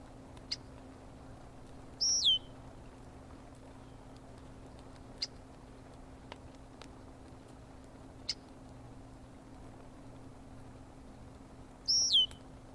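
Bird song from a sound-library recording: a few brief high chirps and short call phrases, with two louder rising calls near the start and the end, over a steady low hum and quiet background hiss.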